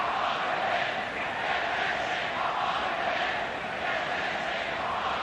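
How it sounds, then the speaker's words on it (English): Soccer crowd at a Portland home game roars steadily throughout, a dense, sustained wash of cheering and shouting with no breaks, loud and continuous like a stadium full of fans. "you can hear this Portland crowd really getting into this game"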